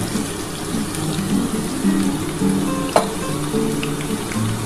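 Chopped onion goes into a pan of frying potatoes, and a steady, close hiss of oil sizzling carries on throughout. One soft clack from a utensil is heard partway through.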